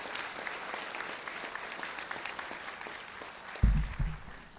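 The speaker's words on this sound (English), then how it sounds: "Let's get another round of applause for them." Applause from an audience at a live cooking demonstration event, a steady wash of many hands clapping that holds evenly, then a louder thump near the end before tapering off.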